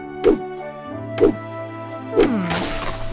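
An axe chops a tree in the video game My Time at Portia, three evenly spaced heavy thunks over a sustained musical tone, loud and close, with a crackling burst following the last strike.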